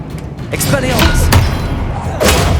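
An Expelliarmus spell in Hogwarts Legacy produces a burst of dense, loud impact thumps and swooshing magical blasts over a continuous rumbling game soundscape.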